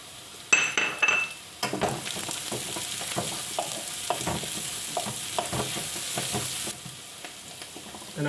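Hot peppers and sage frying with softened translucent onions in a pan for Chinese-Italian fusion buns: an abrupt bright sizzle with repeated spatula scrapes and clinks against the pan, fairly close, and no voices.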